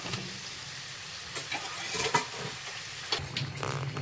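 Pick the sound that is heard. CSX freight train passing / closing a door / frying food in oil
frying food in oil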